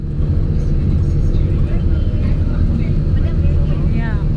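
A bus drives along a rough mountain road near San Carlos, Negros Occidental, its engine a steady loud low rumble with broadband road and body noise throughout, and faint voices underneath.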